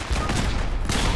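Turret gunfire in Fallout 4: a loud, dense burst of rapid automatic shots, continuous and close for the whole moment.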